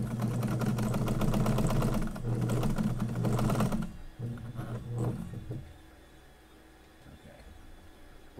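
A sewing machine stitches a laptop bag in loud, fast bursts that stop and restart, with a few shorter runs before it falls quiet.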